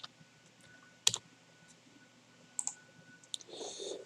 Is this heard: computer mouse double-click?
yes